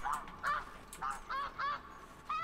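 Geese honk in theHunter: Classic, a handful of separate nasal calls in quick bursts at moderate loudness with short gaps, alone without talk.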